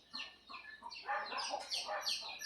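Chickens cluck in a steady, busy stream of short calls at close range, with the occasional louder squawk mixed in and no voices.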